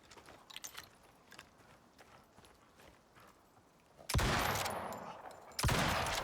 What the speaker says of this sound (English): Warning shots. I'm not missing. Those are warning shots.